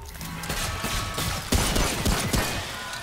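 Gunfire in the video game Remnant: From the Ashes, a dense string of sharp shots and impacts over a rumbling background, loud and close, with a couple of heavier bangs toward the end.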